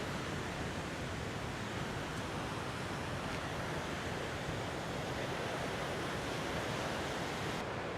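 Ocean surf breaking on a beach on a clear day, a steady, dense wash of rolling waves with no gaps, fairly loud and close, with no voices over it.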